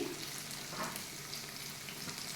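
Onion frying with ginger in a pan gives a steady, soft sizzle with light stirring, close by and quiet, no voices.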